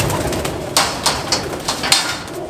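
Pigeon cooing, being kept for flying competition, several soft coos rising at intervals over a low murmuring background.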